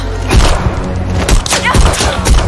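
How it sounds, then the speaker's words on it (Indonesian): Rapid bursts of gunfire from an Indian action film shootout crackle loudly, with several sharp thumping shots spread across the scene over a noisy soundtrack background. "Tapi untungnya Rubina berhasil menghindari tembakan Jim"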